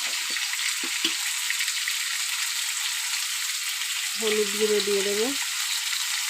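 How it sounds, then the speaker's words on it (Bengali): Ridge gourd and potato pieces fry in oil with a steady, bright sizzle throughout, while a voice speaks briefly over it near the start and again toward the end. "আর একটু ভেজে নেব, বেশি ভাজবো না, সবজিটা হালকা ভাজবো।"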